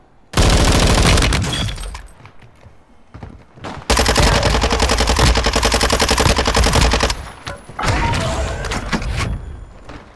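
Automatic gunfire in the Call of Duty video game on the Vondel map: loud, close rapid bursts, then a long sustained stretch of firing, then a few more short bursts.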